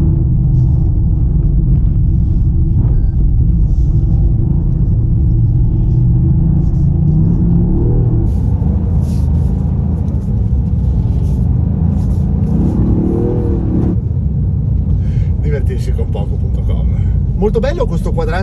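A Toyota Yaris GR drives and slides on snow, its engine a loud, steady low rumble throughout, with slight rises in revs and faint crunching bursts near the end.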